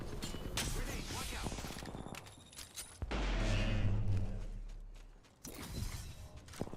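Gunfire and explosions in a competitive shooter video game, sharp shots and clicks in the opening seconds, then a heavy booming blast that swells and fades before more shots return.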